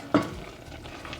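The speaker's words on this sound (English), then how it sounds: "Okay, all right, so we're boiling." Oatmeal being stirred in a boiling pot, with a sharp scrape or clink of the spoon at the start, then soft bubbling and stirring noise that continues quietly at close range.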